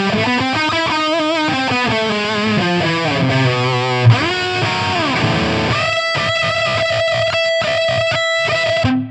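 Electric guitar played through a Mesa Boogie amp with built-in reverb switched on, sustained distorted notes and bends, then a run of ringing chords with reverb tails, loud and alone without talk.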